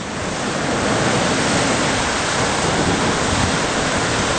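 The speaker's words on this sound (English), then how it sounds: "in here we're talking about surf where you wouldn't want to be swimming" Rough ocean surf too dangerous for swimming, a loud, dense, unbroken roar of breaking waves close by, steady throughout with no voices.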